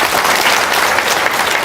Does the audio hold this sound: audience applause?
yes